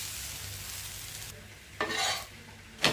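A mixed dal dosa frying on a hot pan over full flame, a soft continuous sizzle with a couple of brief louder bursts as the dosa is touched or flipped, no voices.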